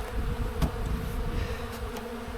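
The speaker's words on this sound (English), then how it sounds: "And all of a sudden, there's another bee in there." Honey bees buzz steadily around an open hive during a spring inspection, a close, continuous drone with faint clicks and handling noise and no talk.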